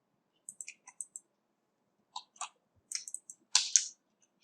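Keys on a computer keyboard are tapped in short, close, quiet bursts of crisp clicks with pauses between them, ending in a slightly louder flurry.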